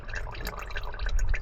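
Transmission fluid leaks and drips from the fill hole of a 2020 Honda Civic, a busy run of small wet splashes and trickles close by.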